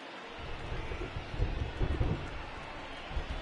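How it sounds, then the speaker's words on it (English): Rain falls on a baseball field in the video game MLB The Show 20: a steady, close hiss of downpour with low rumbling swells through the middle, no voices. "I don't know how much more rain this field can take."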